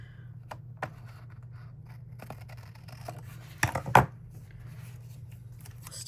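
Scissors snip through washi tape at a desk, a couple of quick crisp cuts clustered together amid faint rustling and small handling ticks over a low steady hum.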